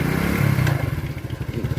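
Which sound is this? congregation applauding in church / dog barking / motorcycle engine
motorcycle engine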